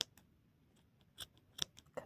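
Scissors snip through yarn fringes on a handmade beginner scarf, a few faint, sparse, close cuts spaced apart against quiet background.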